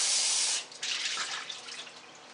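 Tap water runs and splashes into glass jars being rinsed at a sink before pickling northern pike, a steady rush at first that eases into softer, uneven splashing.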